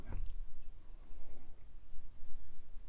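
Domino tiles click together as they are moved and shuffled on a table in a working men's club, with a sharp cluster of clicks at first, then softer scattered clacks under quiet room noise.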